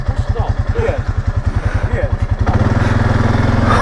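A Honda 500 quad ATV engine runs close by with a loud, even chugging idle, then revs up into a faster, denser drone near the end.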